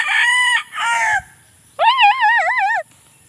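Chickens and a rooster on a farm, with two short, bright clucking calls followed after a pause by a loud, wavering crow close by.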